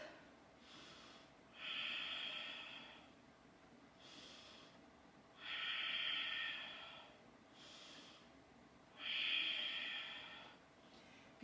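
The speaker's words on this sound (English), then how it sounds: "3 rounds of Ujjayi breath." Slow, audible breaths drawn during an Ashtanga yoga flow, with three long airy hissing exhalations roughly every four seconds, close to the ear, separated by quieter inhale phases in a calm room.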